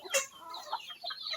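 Free-ranging native Visayan chickens cluck and chatter close by in a yard, a quick run of overlapping soft calls with no talking.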